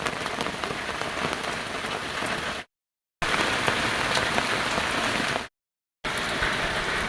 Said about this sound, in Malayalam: എപ്പോൾ നോക്കിയാലും മഴ മഴ മഴ മഴ, ഇത് തന്നെ മഴയുടെ പണി കേട്ടോ